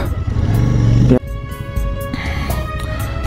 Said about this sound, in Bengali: গাড়ি চালানো যে কতটা টাফ পাহাড়ি রাস্তায়